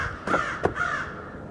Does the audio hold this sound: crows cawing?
yes